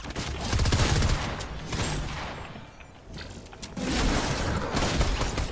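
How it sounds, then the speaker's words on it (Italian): Dense gunfire from many players in a Fortnite Knockout match, with overlapping bursts and rapid automatic fire almost continuous throughout and a brief lull partway through before the shooting swells again. "Tutti che sparano nel napalm, non si capisce dove arrivano."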